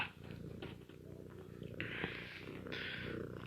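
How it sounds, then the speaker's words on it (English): A cat purring close by, a low rumbling rhythmic drone with a couple of brief higher vocal bursts layered over it, steady and moderately loud. "Stupid cat scratched me."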